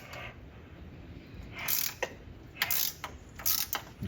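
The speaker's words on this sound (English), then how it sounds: "Now remember, this bolt's already loose, so we're going to take this one off." A hand ratchet backs out a loose bolt holding the AC compressor on a G-body car, giving several close bursts of rapid clicking separated by short pauses, with no talk.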